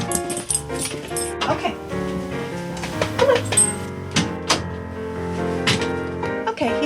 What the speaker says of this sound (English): Let me go tell my dog to stop and we'll be okay.